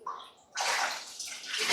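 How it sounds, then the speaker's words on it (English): Water splashes and sloshes close by, a brief gush followed by a second surge, as butchered chickens are lifted out of a full tub of ice water. "taking some of the chickens out of the ice water"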